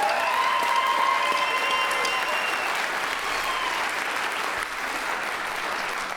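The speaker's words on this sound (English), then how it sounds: "Let's a round of applause for our pipe band coaches back there." Audience applause for pipe band coaches at a high school fall band and orchestra concert, a dense steady wave of clapping from a large crowd that slowly tapers, with faint voices and cheers mixed in.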